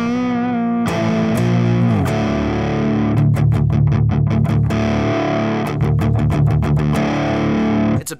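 Heavily distorted metal guitar through an Overloud TH3 5150 amp emulation with a 57-style miked tone, sustained chugging chords then rapid palm-muted stabs, loud and upfront with no talking.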